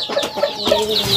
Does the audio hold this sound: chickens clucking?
yes